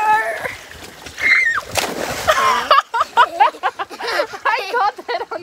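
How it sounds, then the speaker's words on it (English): Water splashing and sloshing in a swimming pool on a hot 90-degree day, loud and close at first, followed by people talking and laughing over lighter splashes. "Playing in the pool in 90 degree weather."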